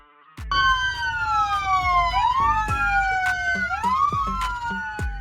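A fire department command vehicle's electronic siren wails loud and close, several sweeping tones rising and falling and crossing over one another without a break, with low engine rumble underneath.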